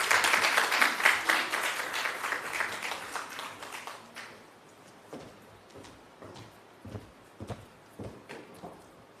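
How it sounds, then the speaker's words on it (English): Conference audience applauding presenters at a national health research meeting: loud sustained clapping that fades out midway, leaving a few scattered claps and faint room noise. "Can we give them another round of applause, please?"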